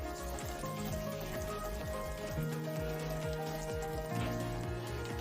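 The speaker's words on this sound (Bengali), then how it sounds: "আলুগুলো উল্টে পাল্টে দিয়ে লাল করে ভেজে নিচ্ছি।" New potatoes fry in mustard oil in a pan and are turned now and then, giving a steady sizzle that sits under continuous background music.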